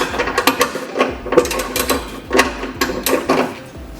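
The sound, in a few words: tightening 13mm bolts on an Audi S5 ECM bracket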